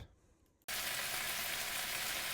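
Chili crisp stirred into veggies in an omelette pan, quiet at first, then a sudden loud, steady sizzle that fills the rest of the moment without pause.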